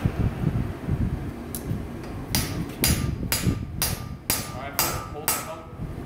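Hammer blows forging a rail spike on an anvil into an axe, six or seven loud ringing strikes in a fairly steady rhythm after a quieter stretch of low workshop noise.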